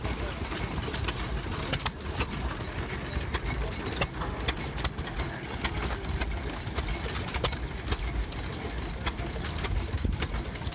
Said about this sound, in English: Here we have various small engines.